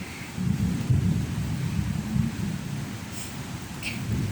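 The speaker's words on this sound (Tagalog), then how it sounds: "Sobrang lakas ng ulan." Heavy rain pours down by a home garden, a loud, dense and continuous hiss with a deep rumbling wash underneath and no voices.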